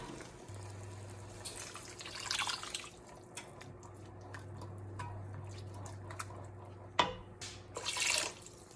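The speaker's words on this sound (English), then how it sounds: "So I'm gonna add some water to it." Water trickles and drips from a tap into a pan holding a cooked vegan lasagna mixture, faint and close with a steady low hum beneath and a few splashy bursts.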